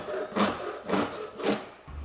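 A rag wipes a WD-40-treated lawn mower blade in three slow, rhythmic rubbing strokes, each a soft, close scrape followed by a brief pause, with no talking.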